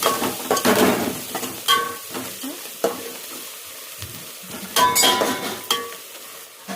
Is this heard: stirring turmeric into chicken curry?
yes